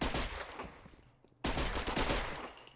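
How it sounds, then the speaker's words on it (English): Gunfire from the video game Mortyr IV, dense bursts of shots crackling continuously, briefly easing before a sharp loud return of rapid fire. "More shots being fired all over the place"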